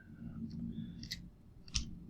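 Two or three sharp, quiet clicks from a computer mouse, spaced apart over a low background hum.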